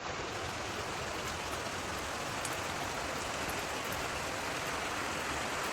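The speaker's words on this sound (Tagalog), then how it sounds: "May waterfalls na maliit." A small waterfall along a trekking trail to Tangadan Falls pours in a constant, dense rush of water, steady and fairly close with no talking.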